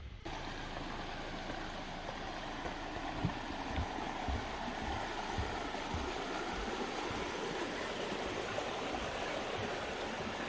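Otter Creek runs near the James River Visitor Center on the Blue Ridge Parkway, a steady close wash of flowing water with faint low thumps, continuous and without voices.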